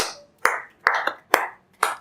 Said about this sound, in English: All of you, a round of applause for him.